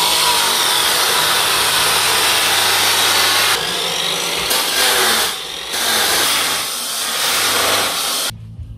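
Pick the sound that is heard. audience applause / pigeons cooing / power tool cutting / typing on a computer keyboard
power tool cutting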